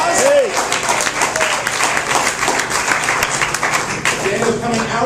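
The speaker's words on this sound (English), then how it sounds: "Let's give him a round of applause" An audience applauds ahead of a singer's appearance, steady crowd clapping with some cheering and a voice briefly audible near the start.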